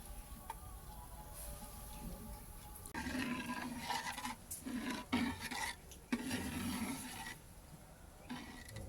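Payesh, a rice pudding made with aatop rice and nolen gur, stirred in a pot over a wood fire, giving a thick, wet churning and scraping that comes in bursts, faint and close, with no speech.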